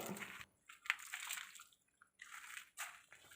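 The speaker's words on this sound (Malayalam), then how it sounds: "ലോഗൻ ഒഴിക്കാം ലോഗൻ റെഡ് ഡയമണ്ട് ഇത് സപ്പോർട്ടയ്ക്ക് ഒഴിക്കാം" Logan Red Diamond liquid fertilizer poured onto a sapota plant outdoors, several short bursts of splashing liquid separated by brief pauses, close but faint.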